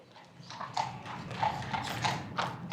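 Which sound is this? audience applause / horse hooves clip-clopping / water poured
horse hooves clip-clopping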